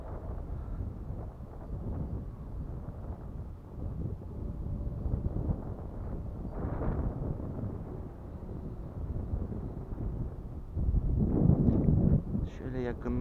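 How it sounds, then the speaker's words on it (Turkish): Strong wind buffets an outdoor microphone at a flying field during a Hangar 9 Valiant radio-control model aircraft flight, a constant loud rumbling roar with gusts swelling louder near the end, and people talking underneath. "Biraz fazla rüzgarlı ama"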